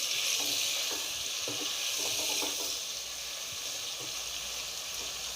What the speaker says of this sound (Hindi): चिकन हमारा भुन रहा है।